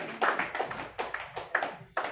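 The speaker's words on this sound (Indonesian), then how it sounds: "Beri tepuk tangannya." Scattered clapping from a small audience at an award ceremony for a Bawaslu Kalbar 2020 video competition: about eight distinct, fairly quiet claps land in an uneven rhythm, with no voices.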